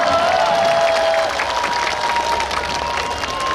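Festival crowd at an outdoor Apsan stage show for a singer applauds and cheers steadily, a dense wash of clapping and voices that carries loud throughout and eases slightly toward the end.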